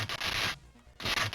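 Electra character's electric sound effect from the DOS fighting game One Must Fall 2097: two short, hissy crackling bursts separated by a brief quiet gap, with no voices.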